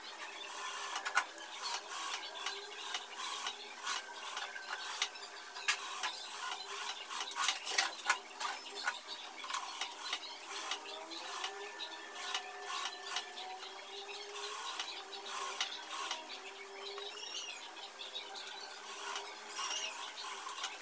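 A sewing machine runs in a continuous rapid stitching rhythm with brief pauses and restarts while a lined blouse is sewn, the mechanical whir and needle clatter steady and close throughout.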